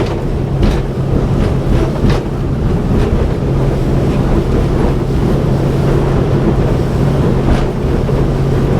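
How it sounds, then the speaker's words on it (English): An Axopar 28 Cabin boat with a single 300 engine runs at speed through turns, its steady engine drone mixing with rushing water and wind buffeting the microphone, continuous and loud with no talk. "Boat runs about 42 knots flat out with a single 300 engine on it."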